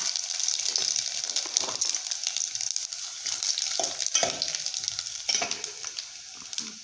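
Cumin and mustard seeds fry in hot oil for a Marathi dill and moong dal dish, with a constant close sizzle dotted by sharp crackling pops.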